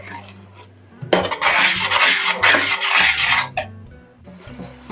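A spoon scrapes and rubs steadily in a pan of sweet and spicy mango jam for a couple of seconds, close and fairly loud, with quieter clinks before and after.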